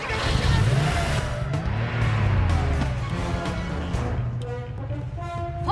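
A car in a 2008 German comedy film pulls away and accelerates, its engine rising and falling through several gear changes with a brief tire squeal, loud and close, while muffled voices come and go underneath.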